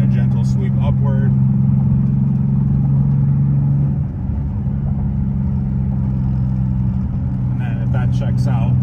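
A car engine pulls hard through the gears toward fourth during an ECU tuning run, a loud, steady low drone with a brief dip mid-way like a gear change before the pull resumes.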